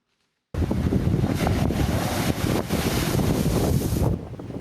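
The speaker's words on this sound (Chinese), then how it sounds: "屏东往返小琉球的交通船，也因为风浪太大，导致船只是不断摇晃" A passenger ferry on the Pingtung–Xiaoliuqiu route rocks through rough seas in strong typhoon wind, a loud, steady roar of wind buffeting the microphone and crashing waves that starts abruptly and carries on, with no voices.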